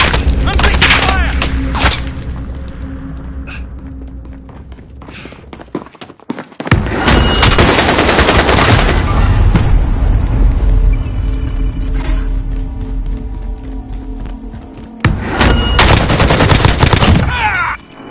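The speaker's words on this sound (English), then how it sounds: "I'm taking fire!" Gunfire in Call of Duty Warzone, a battle-royale shooter: loud, close bursts of automatic fire and booming shots in dense clusters, broken by brief lulls, with a voice speaking over parts of it.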